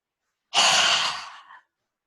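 One long, deep breath exhaled steadily during a gentle morning yoga session, close and clear, fading out at the end with no talking.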